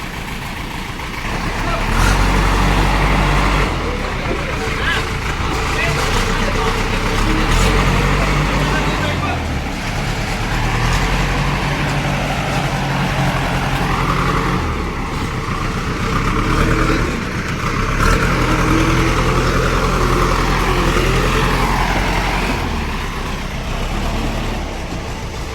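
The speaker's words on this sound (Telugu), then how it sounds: "జేసీబీ వచ్చింది చూడండి." A JCB excavator pushes a truck jammed in the Gandi Palli beer factory parking area. A loud, continuous diesel rumble fills the whole stretch and rises and falls slightly, with voices talking over it.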